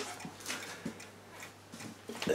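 A Franz Hermle arch dial moon phase eight-day Westminster chiming clock ticks quietly, giving soft, evenly spaced clicks roughly twice a second against a hushed room.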